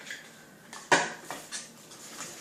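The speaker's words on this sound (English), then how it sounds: "you're just going to stir that together till you get it all mixed up" Sugar cookie dough being stirred in a bowl, with a few close scraping and clinking knocks of a utensil against the bowl, one sharper clack near the start and softer strokes after.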